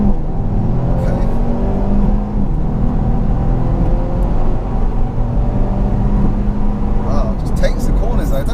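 Inside a Mercedes A35 AMG on the move, a steady engine drone and road rumble fill the cabin as the dual-clutch gearbox shifts, with people talking over it.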